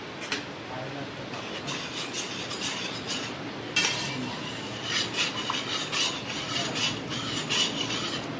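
A spoon stirs spices into jamun juice, giving repeated light scrapes and clinks against the glass in uneven bursts, with a voice talking over the stirring.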